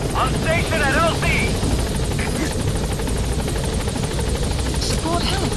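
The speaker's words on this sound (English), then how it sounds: "Support helicopter has arrived." A helicopter's rotor thrums steadily throughout in Metal Gear Solid V: The Phantom Pain, loud and close, with game-style chirps and short voice fragments layered over it.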